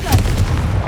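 A Confringo spell blast in Hogwarts Legacy, a short booming burst with a low rumbling body that fills the whole second, loud and close.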